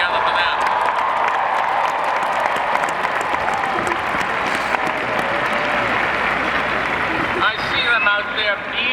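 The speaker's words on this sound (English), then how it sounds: "Put your hands together for them." A large graduation crowd claps and cheers in a sustained, dense roar of applause for parents and families, with voices mixed in throughout.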